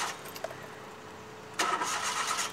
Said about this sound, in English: Start kar gaadi.